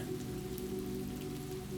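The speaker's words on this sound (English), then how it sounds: "the surrounding buildings have drawn closer for comfort against the rain" Steady, even rain falls on a New York street at night, a dense continuous patter with no gaps, no voices and no thunder.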